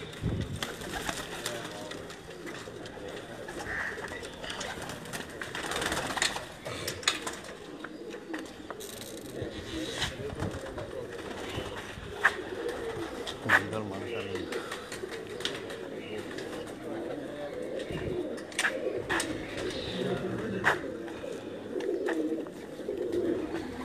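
Pigeons cooing softly in rooftop breeding cages, a steady murmur of calls under background talk from people nearby, with occasional clicks and rattles of the cage.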